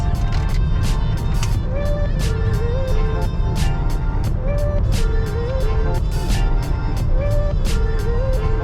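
A car cruises along a highway on a cross-country road trip toward Pittsburgh, heard from inside as a loud, steady drone of road and engine noise with wavering whining tones throughout.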